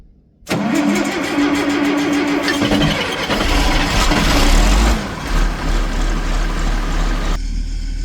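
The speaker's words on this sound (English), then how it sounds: "I'm gonna start this engine up now for the guys." An irrigation pump engine cranks and catches at about half a second, then runs steadily and loudly, roughening and deepening midway before settling into a rumbling idle.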